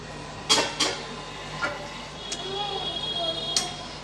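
A spoon stirs okra gravy in a pan in a home kitchen, giving a few sharp metallic clinks and scrapes against the pan at irregular intervals.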